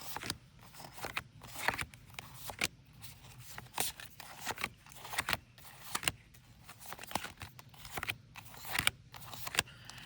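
Tarot cards from an Enchanted Tarot deck being shuffled by hand, with repeated soft slaps and riffling bursts in an uneven rhythm, close and fairly quiet, with no voices.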